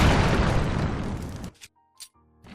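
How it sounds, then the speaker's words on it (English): A bomb flower detonates in Zelda: Tears of the Kingdom, a loud booming explosion that rumbles and decays over a second and a half, followed by small faint game sounds. "you'll find yourself using a lot of bombs in Tears of the Kingdom"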